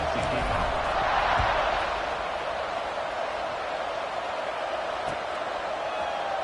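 A football stadium crowd after a touchdown plunge, a loud, continuous broadband roar and murmur filling the space, steady throughout without distinct cheers.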